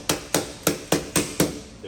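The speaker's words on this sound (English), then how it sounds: "Just take a little rubber mallet, hammer it in, and you're good to go." Rubber mallet tapping garage floor tiles into place, six evenly spaced, sharp knocks in quick succession, close and loud with nothing else over them.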